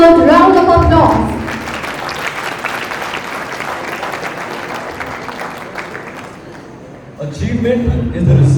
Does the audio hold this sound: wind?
no